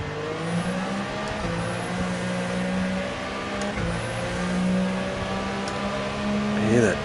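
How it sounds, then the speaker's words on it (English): Turbocharged car engine in Gran Turismo 7, a steady droning hum holding level with slight pitch shifts and a brief swell of revs near the end, heard alone at moderate volume. "Hear that turbo?"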